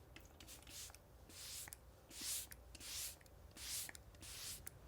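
A small makeup setting spray bottle shaken back and forth close up, producing rhythmic swishing bursts about every half second.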